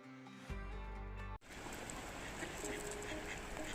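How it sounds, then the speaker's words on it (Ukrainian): Faint ducks quack over a soft, wave-like outdoor noise in Switzerland, with a brief tonal stretch at the start before the wash of sound takes over. "А ми знову на прогулянку до наших качок годуємо їх замість голубів."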